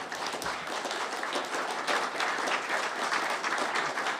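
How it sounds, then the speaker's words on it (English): A standing crowd at a portfolio companies showcase gives a crew loud, continuous applause, with many hands clapping densely and evenly throughout. "give our crew a great round of applause"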